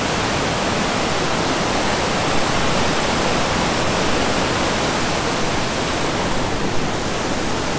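Loud, unbroken roar of the Devil's Fall (Chute du Diable) on a wild river carrying heavy water, a dense close-up rush that fills the whole clip with no voices.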